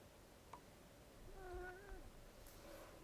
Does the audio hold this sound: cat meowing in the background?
yes